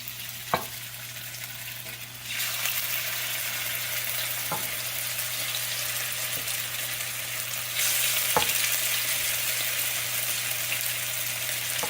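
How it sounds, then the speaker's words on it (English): Grunt fish sizzle and fry in hot olive oil, a loud steady crackling hiss that swells as the fish goes in, with a few sharp clinks of utensils and no talking. "Okay, the oil's ready for the fish."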